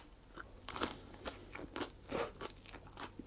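Close, crisp crunching bites and chewing of bread filled with potato chips, cabbage and mayonnaise, in irregular bursts without talking.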